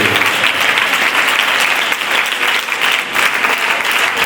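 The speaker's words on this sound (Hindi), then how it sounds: "जोरदार ताली बजाकर परमेश्वर के नाम को धन्यवाद करें" A congregation at a one-day convention in Dogra Hall, Jammu, claps loudly and continuously. The dense, even applause fills the room without a break.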